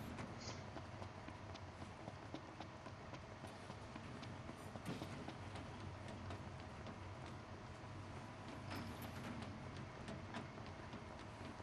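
A train in Final Fantasy XV runs with a continuous dense rumble and rattle of wheels on track, steady and loud throughout, with faint clicks scattered over it.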